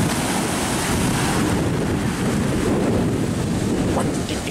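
Ocean surf crashes and rolls continuously in a video game coastal scene, a loud, dense roar of breaking waves mixed with wind-like hiss and no pauses.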